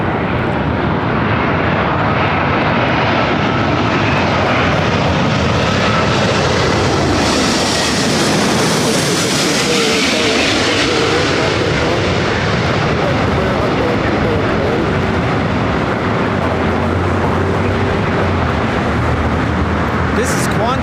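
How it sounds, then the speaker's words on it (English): A Qantas Airbus A380 airliner inbound from Sydney roars overhead on a go-around, a loud sustained jet rumble that swells and sweeps past near mid-clip, with people talking underneath. "This is Qantas Flight 11 coming in from Sydney on the A380."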